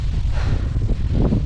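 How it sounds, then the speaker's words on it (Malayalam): Wind gusts across a mountain trekking trail, buffeting the microphone with a steady low, rumbling roar that swells and dips throughout, with no voices. "നല്ല കാറ്റുണ്ട്."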